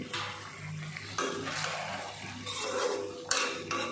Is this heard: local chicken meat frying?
yes